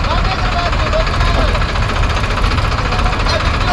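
An overloaded Mahindra 575 DI XP Plus tractor hauling about 250 quintals up a steep, dangerous climb gives a loud, steady, labouring diesel rumble with a knocking vibration that runs the whole time, with voices faintly underneath.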